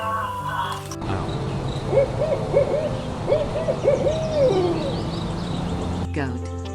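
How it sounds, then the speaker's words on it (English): An owl gives a run of soft, low hoots in the middle of the clip, fairly clear over a steady background bed of music. "Owl."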